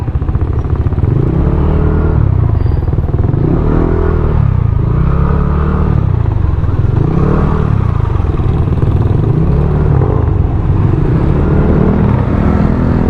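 Continuous road traffic roars close by during a motorcycle ride, with engines repeatedly swelling and fading in slow waves and a constant rumbling underneath.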